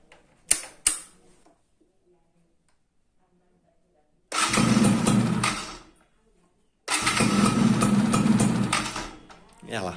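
A Yamaha F1ZR two-stroke motorcycle engine is cranked, briefly catches, then settles into two loud bursts of rattly idling separated by a quiet pause, close to the microphone.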